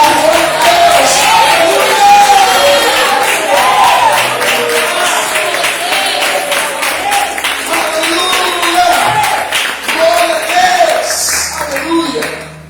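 A church congregation at a worship service claps and cheers loudly, with rhythmic clapping and shouted voices throughout, fading toward the end.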